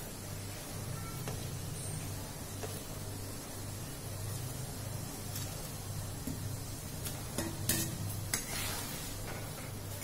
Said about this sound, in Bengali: মাছগুলো ছেড়ে দেবো এবার।